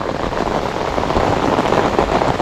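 Rain pouring down steadily outdoors during airgun fishing, a loud, dense, even hiss of drops striking surfaces with no break, close and continuous for the whole stretch.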